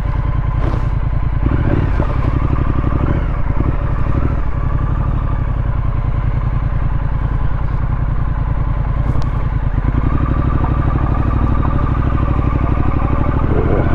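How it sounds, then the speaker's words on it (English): A Triumph Street Scrambler motorcycle being ridden, its engine a loud steady drone close to the rider with a constant rumbling throb and wind noise throughout. "It's nice to be on my bike."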